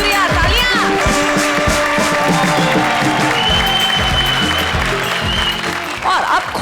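Studio audience applause on a comedy show set: continuous loud clapping and cheering from a crowd, blended with music and voices, staying full for several seconds before dipping briefly near the end.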